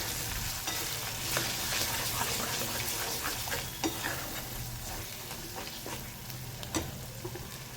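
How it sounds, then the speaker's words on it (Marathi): Turmeric, red chili powder and homemade masala sizzle in a pan with oil, a steady close frying hiss broken by soft scrapes and taps of stirring. "हळद, आपला घरचा मसाला, लाल तिखट आणि हा घरचा किंग मसाला करून ठेवलेला, हे छान परतून घेऊया"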